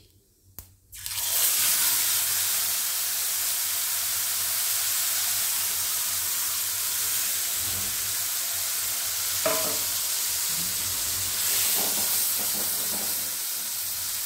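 Ginger, tomato and green chilli paste hits hot oil just after the tempering spices have crackled, in a vegetarian potato dum. A sudden loud, steady sizzle and hiss follows, with faint stirring clicks now and then.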